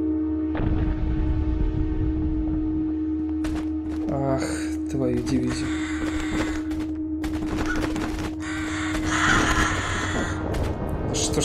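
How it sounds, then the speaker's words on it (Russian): Crows caw in bursts inside a video game maze, several harsh calls clustered in the middle and end over a steady low hum, with someone talking over them. "Не так, долбаные птицы, воронье."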